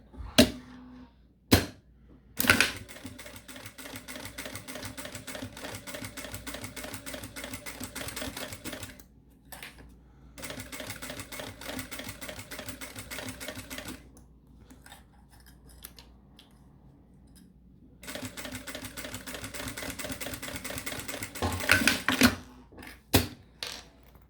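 A sewing machine stitches along the edge of an accordion-style zipper wallet, running in quiet, rapid mechanical ticking for several long stretches, with pauses and a few sharp clicks between runs.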